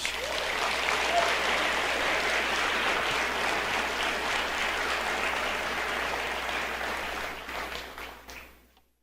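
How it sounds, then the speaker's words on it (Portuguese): A congregation applauding during a church broadcast, sustained crowded clapping that holds steady for several seconds and then fades away near the end. "aplauda o Senhor Jesus"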